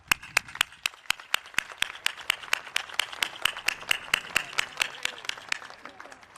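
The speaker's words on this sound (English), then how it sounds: "Please honor them with a round of applause." Clapping at an adult and continuing education commencement ceremony, with sharp, evenly spaced claps close by in a steady rhythm of about four per second over a faint hall background.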